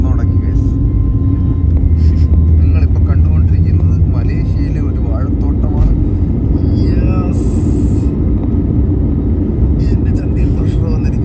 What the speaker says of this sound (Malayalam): ഞങ്ങളുടെ വിമാനം പറന്നു തുടങ്ങി